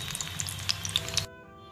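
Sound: papad paneer rolls deep frying in oil

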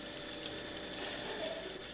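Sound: distilled water trickling out of a cooled condenser tube

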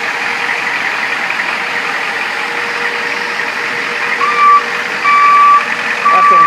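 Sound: 1991 Ford F-450 truck rolling forward

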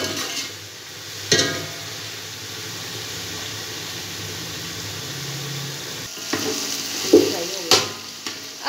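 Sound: frying and stirring in a pot

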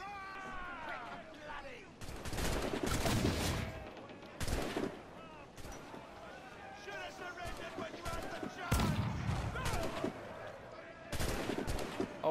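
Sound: gunfire from a weapon in the video game Assassin's Creed 4: Black Flag

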